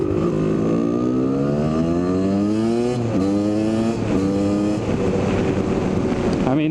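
A Kawasaki KDX250 two-stroke enduro motorcycle engine revs hard and steadily, rising in pitch through several gear changes, loud and close throughout with no talking.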